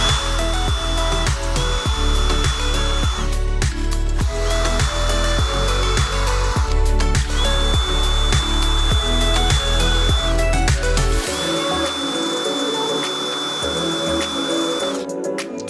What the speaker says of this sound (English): and we wanna pre-drill